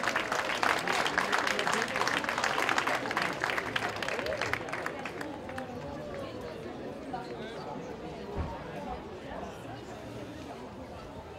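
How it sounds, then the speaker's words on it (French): An audience in the stands at a prize-giving ceremony applauds in a strong wash of clapping that gradually thins and fades into a murmur of crowd chatter and background voices. "je serais très heureux d'entendre vos applaudissements retentir dans les tribunes"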